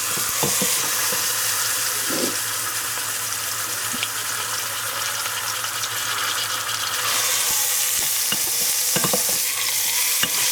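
Meat browning in a Pressure King Pro pressure cooker: a steady, close sizzle and frying hiss runs throughout with occasional scraping stirs, no voices.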